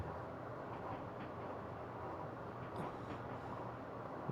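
Steady rumbling rail ambience inside a moving train in a video game, a continuous dense low roar with faint clicks on top; no voices.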